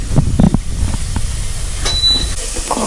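Feijoada poured into a hot pan sizzles with a steady steam-like hiss, loud and close, with a few thumps at the start and a brief high tone partway through.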